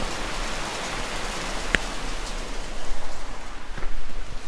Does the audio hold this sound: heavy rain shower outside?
yes